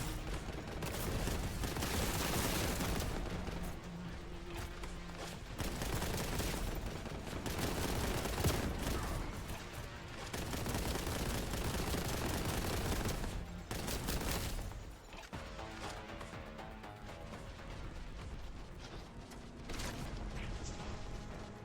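Bolt gun fire from the video game Warhammer 40k Boltgun pours out in dense, sustained volleys with booming impacts and explosions, running almost without a break under game noise.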